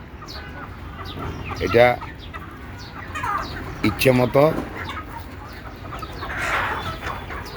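Desi chickens cluck in short bursts at close range, with a few brief calls heard under a voice speaking.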